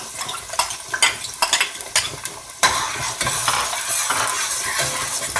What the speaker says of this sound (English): We're going to fry our onion.